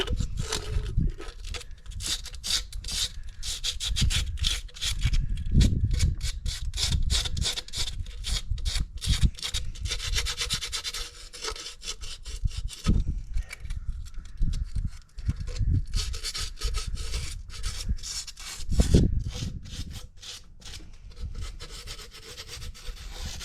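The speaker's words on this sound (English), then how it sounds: "So I'm just going to use a little bit of sandpaper just to clean around." Sandpaper rubs in quick back-and-forth strokes around a part on a Dodge Caravan, a steady, close scratchy rasping with occasional louder knocks.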